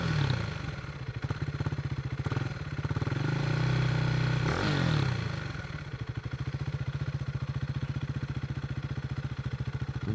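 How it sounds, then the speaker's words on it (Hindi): A KTM RC 390 motorcycle fitted with an SC Project exhaust idles with a rapid, even pulsing thump, then revs up briefly before settling back to a steady idle, with no talking. "तो ये एग्जॉस्ट की आवाज़"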